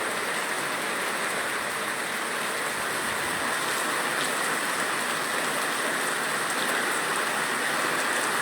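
Heavy rain pours down during a windy storm at Neyyattinkara, Thiruvananthapuram, Kerala. It makes a steady, dense hiss that never lets up and stays unbroken by voices.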